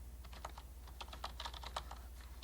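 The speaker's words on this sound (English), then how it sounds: "I'm just typing out the best days of our lives." Quiet, irregular clicking of fingers typing on a computer keyboard, a quick patter of keystrokes over a low background hum, with no talking.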